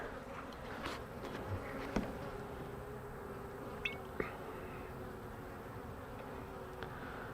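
Steady buzzing of many honey bees close by, a dense continuous hum with a few faint clicks.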